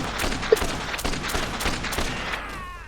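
Rapid assault rifle fire from the video game Dead Rising 2, dense overlapping bursts rattling close and loud through the whole stretch, tapering near the end.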